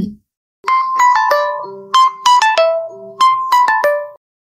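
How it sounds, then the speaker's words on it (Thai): A mobile phone in a shirt pocket rings with a bright electronic melody, several quick tonal phrases in bursts after a brief low sound, loud and close with no talk. "เมื่อโทรศัพท์มือถือในกระเป๋าเสื้อส่งเสียงร้องดังขึ้น"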